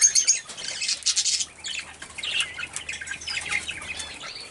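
Pigeons flap their wings in quick, loud bursts close by, mixed with a few soft squawks and chirps.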